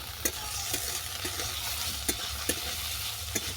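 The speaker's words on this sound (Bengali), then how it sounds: "আরও 5 মিনিটের মতো আমি এটাকে নেড়ে চেড়ে নেব।" Gourd peel and potato stir-fried in a pan, with a continuous close sizzle and a series of regular, sharp scraping taps from a spatula turning the mixture, no voices.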